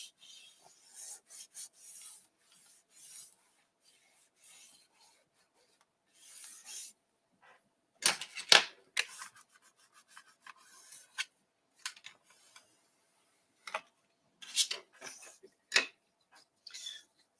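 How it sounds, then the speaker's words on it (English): Paper being cut into a 5/8 inch strip for a Christmas box album, with intermittent rasping, rubbing strokes of the blade in short bursts and pauses, close and fairly soft, without talk. "And then we will be cutting a 5/8 of an inch strip for there."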